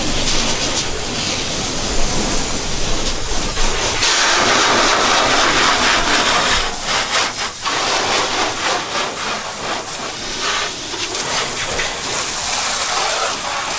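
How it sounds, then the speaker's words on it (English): Water sprays across a car's bodywork during a car wash rinse, a loud steady hiss and gush that shifts in pitch as the spray moves over the panels. "So we just got done rinsing the vehicle"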